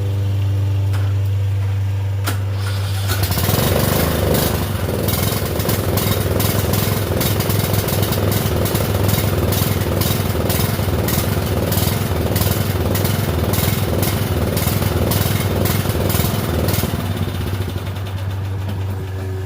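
A Murray 30-inch riding mower, newly fitted with a replacement carburetor, cranks after a low hum and catches after a few seconds. It then runs with a loud, rapid, chugging putter close by before easing back toward a lower, steadier drone near the end.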